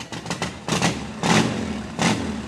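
A motorcycle engine revving in several short bursts, each rising and falling over a rough running rumble, fairly close.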